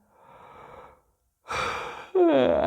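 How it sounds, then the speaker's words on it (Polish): During a calm yoga session, a soft inhale is followed by a pause, then a stronger breath and a long voiced exhale. All of it is close and alone. "Weź sobie głębszy wdech i dłuższy wydech."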